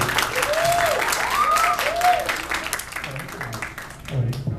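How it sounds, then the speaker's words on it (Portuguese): A crowd at a Harry Potter cosplay event claps for a costumed participant, dense applause filling the room with cheers and voices rising over it, then tapering off near the end. "Palmas para Thaís."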